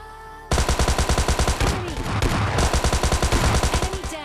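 Rapid bursts from a Thompson submachine gun in PUBG Lite, close and loud, with steady full-auto rounds running through most of the stretch and a brief lull in the middle.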